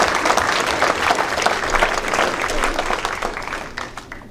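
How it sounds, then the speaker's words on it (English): A school district audience bursts into loud, dense applause for a Kiwanis club honoree, the clapping strong at first, then thinning and fading toward the end. "Let's give Kiwanis one more round of applause."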